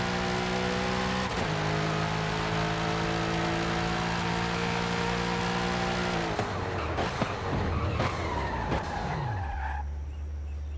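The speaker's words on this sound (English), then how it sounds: "So if I use the Forza launch control, this car launches pretty damn good." A car in Forza Horizon 5 holds a steady high-rev launch-control drone, then launches with tire squeal and rising engine notes before the engine winds down, loud and close.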